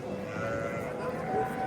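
Sheep bleating at a busy livestock market, a short faint call amid crowd murmur and background noise.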